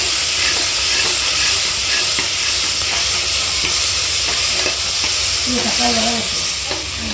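Tomatoes sautéing in an open pressure cooker, a loud, steady hiss and sizzle with faint scraping from stirring throughout.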